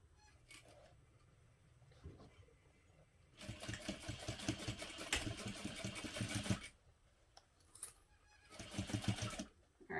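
A sewing machine stitches the base panels of a tote bag in two close bursts, one long run and a shorter one, with quiet handling sounds and pauses in between.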